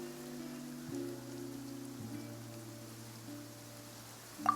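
Rain falling in the video game Genshin Impact, a soft, steady patter on surfaces running under sustained low music tones, faint and continuous with no voices.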